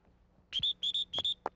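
A dog-training whistle sounds in a series of short, shrill blasts, five quick pips in pairs with brief gaps between them, fairly close, followed by a faint click.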